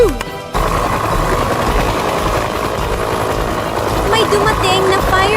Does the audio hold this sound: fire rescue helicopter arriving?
yes